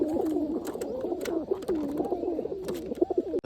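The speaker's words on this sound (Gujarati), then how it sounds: "મિત્રો ઘણા ખરા કબૂતર છે અત્યારે પાસે આવી ગયા છે" Domestic pigeons in a backyard loft coo continuously in a low, rolling chorus, several birds overlapping at close range with occasional soft fluttering and shuffling.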